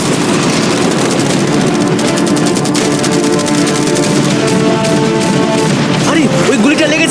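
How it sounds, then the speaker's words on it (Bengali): Cannons, machine guns and fireworks fire together at a yacht in a loud, dense barrage of rapid bangs and booms that continues throughout without pause. "অনেক ফায়ারওয়ার্কস, অ্যারো এবং ক্যাটারপুলস, এই সব একসাথে তোমার ইয়টের দিকে এখন ছোড়া হবে।"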